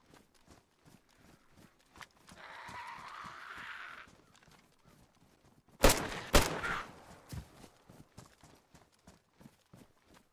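Gunfire in the video game DayZ, two sharp, loud shots in quick succession mid-clip amid steady rhythmic footstep-like thuds and a brief rushing noise earlier, no talking.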